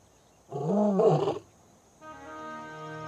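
A lioness in Africa gives a loud, close roar lasting about a second, a deep, rough call with rising and falling pitch, followed by a fainter drawn-out tonal call.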